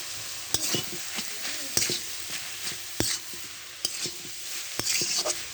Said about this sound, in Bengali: আর ঢেকে দেবো না, এভাবে নেড়ে চেড়ে ভেজে নেব।